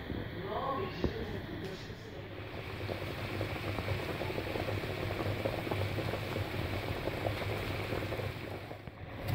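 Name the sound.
oxtail simmering in salted water on the stove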